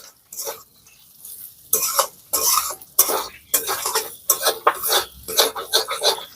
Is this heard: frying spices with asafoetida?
yes